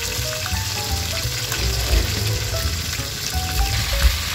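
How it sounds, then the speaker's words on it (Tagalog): Cooking oil heating in a pan for frying dalagang bukid fish, with a loud, close, steady sizzle and crackle plus occasional low knocks, no speech. "At dito guys, nagpapainit na tayo ng mantika."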